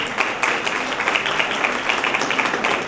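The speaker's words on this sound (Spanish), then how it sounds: "Un aplauso," An audience at a seminar claps steadily and fairly loudly, a continuous dense patter of many hands throughout.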